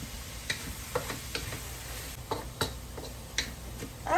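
Salted green and red bell peppers are stirred in a hot pan, a spoon scraping and tapping in an irregular rhythm over a steady low sizzle, close and moderately loud with no talking.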